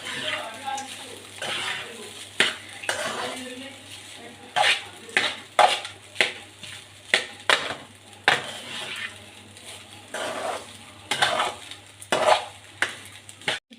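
Fried leftover rice with salt gets mixed in a pan: a spatula scrapes and clanks in a fairly regular rhythm of strokes over a light sizzle, close by, with a person talking intermittently.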